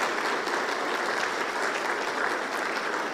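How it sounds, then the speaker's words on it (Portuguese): A church congregation applauds during a Sunday-morning service, producing dense, steady, fairly loud clapping from many hands that holds evenly throughout without letting up. "Vamos aplaudir Jesus?"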